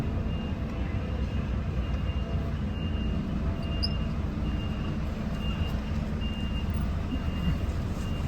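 A truck backs in with a steady reversing beep that repeats at an even rhythm over a loud, constant engine rumble.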